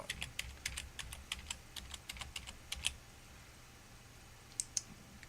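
Quick taps on a computer keyboard as a password is typed, a steady run of crisp, close clicks for about three seconds, then a pause and two final keystrokes; fairly quiet, with no talk.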